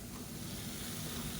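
Chopped tomato sizzles as it is sautéed in hot oil for a cauliflower and green pea rice dish, producing a loud, steady, close hiss with no talk over it.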